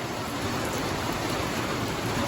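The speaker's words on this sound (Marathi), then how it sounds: "लय भयंकर पाऊस आहे" Heavy rain pours down in a steady, dense roar with no pause, loud and close.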